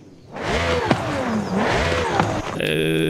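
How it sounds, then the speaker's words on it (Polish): A car engine revs up in a rising whine, dips, and climbs again twice, loud and close, with a steady tone lingering at the end; a car in Forza Horizon 5. "Jak wchodzi na obroty, to słychać taki inny trochę dźwięk"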